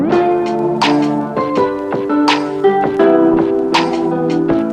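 A lo-fi hip hop beat with vinyl and tape effects plays steadily and loudly, with mellow sustained chords under sharp percussive hits and a muffled, aged tone throughout.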